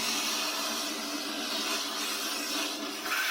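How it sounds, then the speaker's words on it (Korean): A vacuum cleaner roars with a steady, loud suction hiss as it pulls a toy out of a clogged toilet, the sound holding constant throughout. "청소기를 이용해서 한번 빨아들여 보겠습니다"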